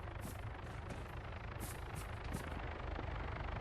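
Helicopter in the military shooter Arma 3, a faint, steady rotor-and-engine drone with rhythmic thumping, heard at a distance with no talk.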